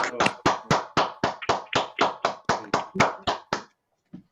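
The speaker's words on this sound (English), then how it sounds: "Maybe unmute for a round of applause here." Online meeting participants applauding over a call, about fourteen evenly spaced, loud, close hand claps in a steady rhythm, then silence and one faint tap.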